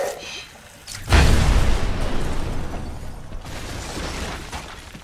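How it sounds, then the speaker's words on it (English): A sudden loud, booming explosion in Batman: Arkham Asylum erupts, followed by a long rumbling, crackling roar of debris and noise that slowly fades but stays heavy. "it was cut off by the explosion"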